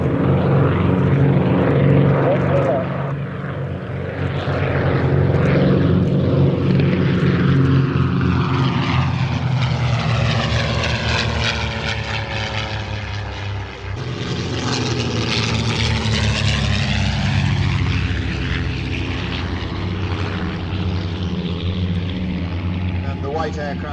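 Vintage de Havilland DH88 Comet propeller aircraft at a Shuttleworth air show, a loud sustained piston-engine drone that rises and falls with a pronounced Doppler sweep as it passes overhead, with a commentator speaking throughout.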